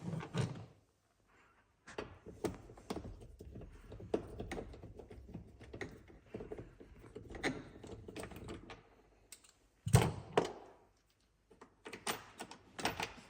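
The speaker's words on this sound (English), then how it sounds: "you have to pull the door panel a little bit outside with a special tool or with your hands" On a BMW X3 F25, the interior door panel is pried away from the door by hand or trim tool, giving a series of sharp plastic clip pops and snaps with scraping in between, one loud crack near the end.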